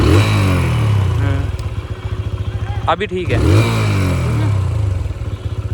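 A TVS Apache 160 2V BS6 motorcycle engine runs steadily and close by, rising briefly as it is revved, while someone talks over it.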